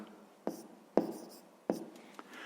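Pen scratching on notebook paper while a fraction is written out for a fifth-grade math exercise, three quick close strokes with short gaps, quiet and without talk.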